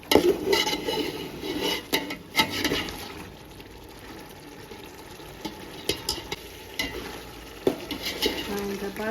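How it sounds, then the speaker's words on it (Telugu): A chicken donne biryani mixture is stirred in a pot, giving scraping and clinking spoon strokes with a soft sizzle, busy at first and then quieter with sporadic knocks. "చూడండి బాగా కలుపుకోవాలి"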